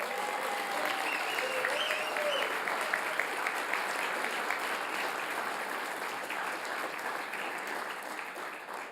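Audience applause at the opening of a political summer university session, heard as a sustained, fairly distant wash of many hands clapping steadily, with a faint tone or voice drifting through early on.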